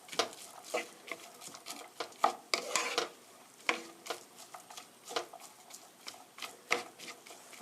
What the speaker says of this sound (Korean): 5 minutes stir fry